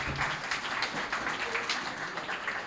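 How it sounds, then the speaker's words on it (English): Brief audience applause for seminar panelists at a community event, uneven clapping from a modest crowd with individual claps standing out in a short burst. "Big round of applause for our panelists."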